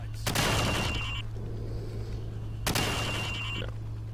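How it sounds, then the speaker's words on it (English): Two separate rifle shots at targets in Call of Duty 4, sharp and close, a few seconds apart, each one trailing off, over a low steady background hum. "Now shoot each target while aiming down the sights."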